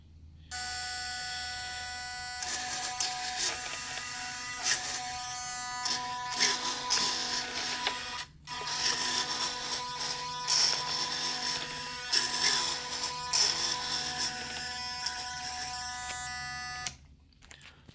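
Small flap servos in a GCM Vertigo F5J RC glider wing sweep back and forth under a servo checker, giving a steady close electric whine with brief pauses and a short cutout midway, with no talking.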